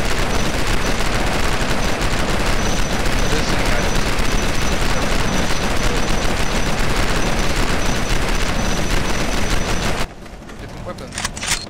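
Rapid gunfire from a small weapon in the sci-fi video game Starforge, a dense continuous stream of loud shots for about ten seconds before stopping abruptly, followed by quieter game ambience.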